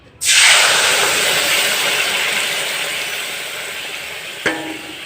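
A loud sizzle bursts out as marinated food hits a hot wok, then settles into a steady hiss that slowly fades, with a brief clank near the end.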